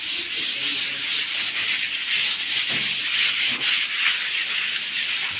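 Skim-coat plaster being sanded smooth on a wall during house renovation, a continuous, steady abrasive rubbing that stays close and loud throughout, with no talking.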